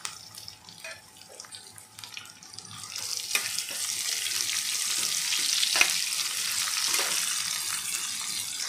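Sliced onion frying with garlic and ginger in a pan, a steady hissing sizzle that swells after a few seconds and stays fairly loud, with occasional stirring clicks and no talk.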